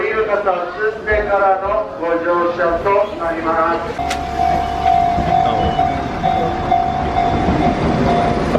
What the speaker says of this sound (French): On va prendre le métro pour faire deux petites stations.